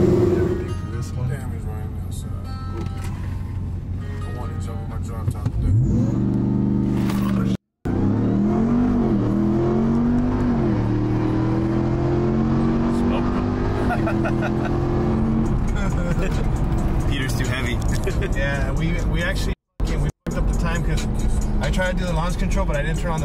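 A Ram TRX pickup and a Lamborghini Urus SUV drag race: engines idle, then roar up hard with rising revs and gear changes, loud and close, with voices around them.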